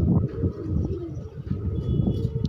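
A pigeon kept by a hobbyist coos close by in low, rolling repeated calls, with faint higher chirps from other birds in the background.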